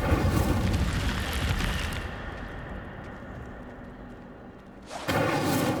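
A fire spell cast in Hogwarts Legacy, the wizarding video game, bursts out as a loud, dense roaring whoosh that settles into a sustained crackling rumble, then flares up again with a second strong burst.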